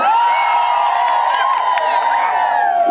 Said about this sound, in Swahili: Pigeni makofi mengi